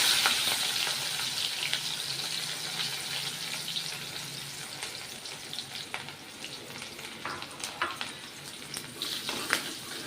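Green chili fries in a pan of hot oil with cumin seeds, asafoetida and mustard seeds, giving a continuous close sizzle and crackle. Faint stirring scrapes and pops rise through the steady frying hiss.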